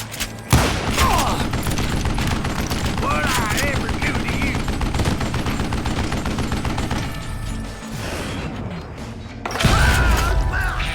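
Revolver gunfire in the Western shooter Call of Juarez: Gunslinger, loud dense bursts of shots running almost continuously with brief lulls, layered with game clatter and someone talking over it.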